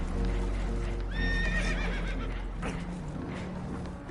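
Spooked horses neighing loudly in Red Dead Redemption 2, with several shrill whinnies rising over a steady rumbling background, aboard a boat taking on water, plus faint hoof clatter.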